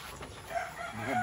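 Chicken sounds, likely a rooster starting a crow, rise over steady background noise during feeding time at a rural home, close and moderately loud, with no one talking.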